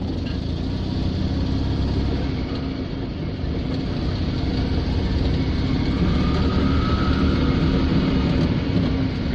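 Invacar engine running as the invalid carriage sets off for home, a loud, steady low drone and rumble with slight rise in pitch, close and continuous, no talking.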